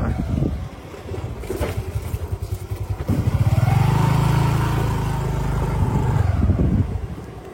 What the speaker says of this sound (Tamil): இது இந்தியாவில இருந்து வந்த மோட்டர் சைக்கிள்